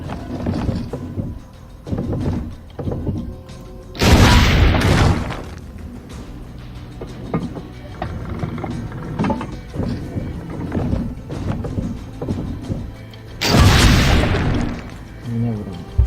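Cannon fire in the video game Assassin's Creed Brotherhood: two loud, heavy booms about nine seconds apart, set against a steady bed of quieter in-game noise.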